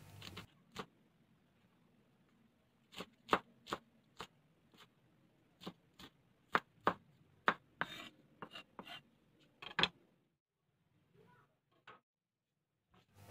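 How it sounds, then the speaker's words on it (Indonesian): Green chili peppers being chopped with a knife on a board, a series of crisp, close, quiet taps in an irregular rhythm, with soft handling noises and faint background sounds between the cuts. "Untuk cabai hijau terlebih dahulu saya potong-potong"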